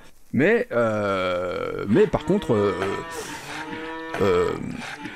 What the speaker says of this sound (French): c'est le son de vache